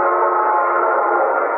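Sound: train whistle blowing

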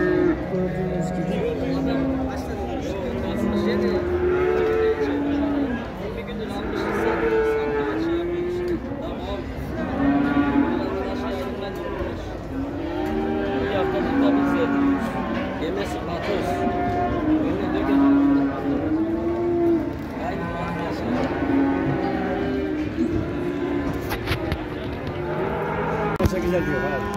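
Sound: cattle mooing at livestock market

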